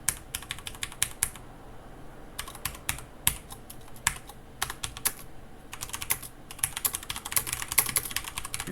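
Rapid typing on a computer keyboard while writing code, with irregular bursts of crisp close key clicks separated by short pauses, fairly quiet and alone.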